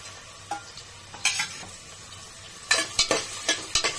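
Curry leaves hit hot oil in a home kitchen pan while cooking a ridge gourd and chana dal curry, giving sharp crackling bursts and spitting pops, sparse at first then clustering into several loud sizzling spurts near the end.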